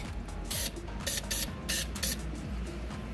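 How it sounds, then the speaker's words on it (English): Several short hissing bursts of a gold aerosol spray paint can spraying inside a wheel hub of a 2001 Kawasaki KX60, close up, separated by brief pauses over a steady low background hum. "I'm going to spray a little bit in here"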